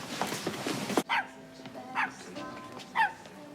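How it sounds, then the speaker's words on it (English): A dog barks indoors in a home, one sharp bark after a stretch of talk, then three evenly spaced yips about a second apart, fairly close, with people speaking before the barking. "Any way you can shut that dog up, Roy?"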